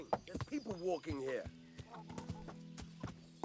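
Horse hooves clip-clopping at a steady rhythm while riding in the medieval game Kingdom Come: Deliverance, opening with a whinny and a voice, then a run of fairly close, moderately loud hoofbeats.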